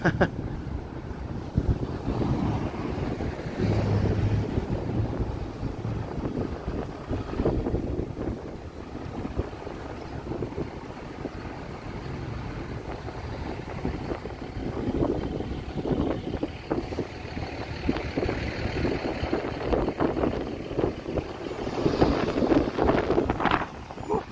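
Wind buffeting a handheld microphone on a city walk in Toronto, a continuous low rumbling roar that swells and fades in gusts for the whole stretch, with occasional faint voices underneath.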